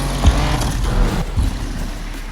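A race car in NFS Unbound roars along at speed, a steady loud engine drone broken by a few sharp low thumps, with no talking.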